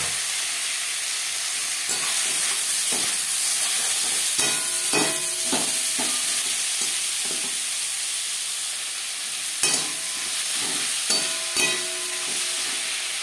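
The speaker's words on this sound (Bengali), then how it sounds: "10-15 সেকেন্ড 5 ফোড়ন তেজপাতা ভেজে নেওয়ার পর দিয়ে দেবো পেঁয়াজ, টমেটো, রসুন" Onion, tomato and garlic frying in a pan with bay leaf and five-spice tempering for an egg and potato curry, a steady loud sizzle with occasional stirring scrapes and clinks of a spoon against the pan.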